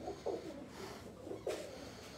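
Pigeons coo softly in a few low, throaty bursts, close by and fairly quiet against a faint background hum.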